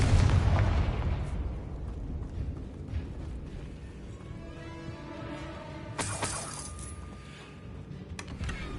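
The Confringo fire spell goes off in Hogwarts Legacy, opening with a loud explosive burst that decays into rumbling debris, followed later by a sharp shattering crack and chiming magical tones.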